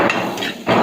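Pork head bones are cracked apart for a soup broth: two heavy, sharp blows, one near the start and one near the end, close and loud with no talking.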